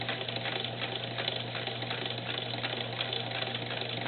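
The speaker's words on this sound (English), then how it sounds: "I'm just going to keep pushing it into the sewing machine so it's wadded up as it sews." A sewing machine stitching bunched-up fabric runs continuously with a fast, even mechanical patter and steady motor hum, no voices.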